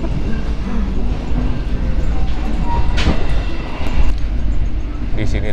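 A train rumbles past close by on a track running alongside a road, a loud, steady roar of wheels and carriages with a brief clatter near the end.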